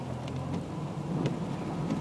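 Heavy rain pours steadily outside over a flooded road and parking lot, a dense, continuous hiss of water with a slight swell partway through and no voices.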